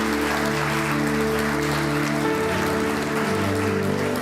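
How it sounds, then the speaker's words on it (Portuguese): A church congregation claps steadily throughout, a dense wash of applause layered over sustained keyboard or organ chords that shift midway. "Então vamos dar uma salva de palmas para Jesus,"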